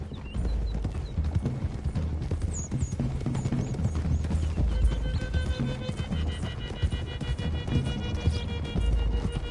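Horse hooves clip-clopping in the Red Dead Redemption 2 western video game, several horses riding together along a road toward hills, a dense rapid patter of hoofbeats with creaks and jingles, steady and close throughout, mixed with game sound effects.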